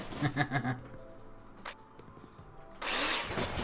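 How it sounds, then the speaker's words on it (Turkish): A drill whirs in short bursts while unscrewing fixings in the Builder Simulator video game, then a louder burst near the end, with faint game background sounds in between. "Matkapla söküyorsunuz ama sökme noktalarına gelmeniz gerekiyor işte."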